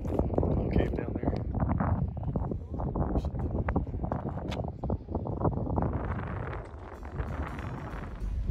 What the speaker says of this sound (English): Now you might have noticed it's a little windy here.